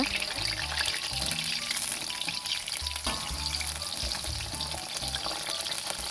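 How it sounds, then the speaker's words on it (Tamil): Mushrooms deep-frying in hot oil for mushroom 65, a continuous loud bubbling sizzle with occasional stirring clatter and low-pitched thumps throughout. "நல்லா இந்த பபிள்ஸ்லாம் அடங்குற அளவுக்கு நல்லா ஃப்ரை பண்ணி எடுத்துக்கலாம்"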